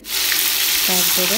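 Carrots, finely chopped potatoes and green chilies fry in hot oil in a wok with a loud, continuous close sizzle, while someone briefly speaks over it.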